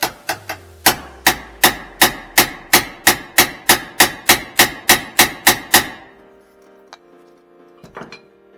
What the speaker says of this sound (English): I'm going to give it a few more whacks with this. See if I can loosen that up.